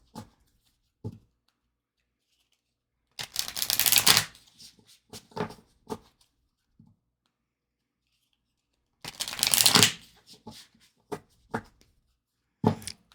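A deck of 3D tarot cards being shuffled at close range, with two long riffling bursts separated by lighter taps and card handling, and quiet gaps between.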